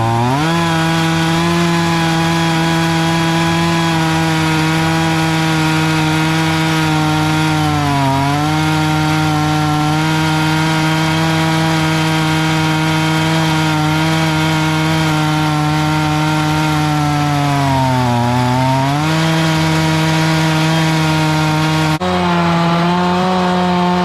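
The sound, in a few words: chainsaw milling pine logs into boards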